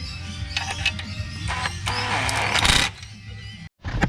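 Bolts being snugged with a ratchet on a BMW E46 during a manual transmission conversion, a run of close mechanical clicking and creaking that stops abruptly near the end.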